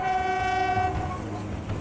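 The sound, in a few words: Kalka-Shimla Railway mountain train in India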